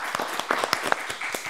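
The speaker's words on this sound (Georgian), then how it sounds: "მოდი ტაში." A small group claps together at a casual dating-show gathering, with quick irregular hand claps close by, fairly loud and brief, mixed with a few voices.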